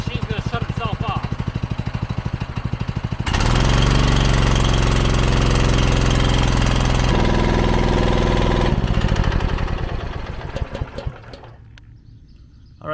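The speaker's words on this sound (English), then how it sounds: "rev the machine up, that rotor is going to stay still, but that clutch is going to start slipping." A 4090 heavy duty clutch slips as the machine revs hard, a loud sustained engine roar that steps up in pitch for several seconds, then drops back to a rough idle and winds down.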